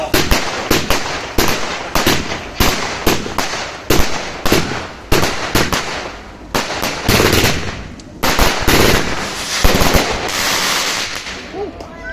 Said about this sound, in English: Yeah, those are good fireworks, yeah.